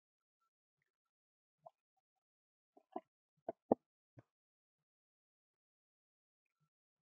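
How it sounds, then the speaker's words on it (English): Farm yard eggs are cracked one after another into a separate bowl, a handful of short, sharp cracks and soft plops spaced within a few seconds, close and isolated in near silence. "especially with yard eggs, I always crack them in a separate bowl."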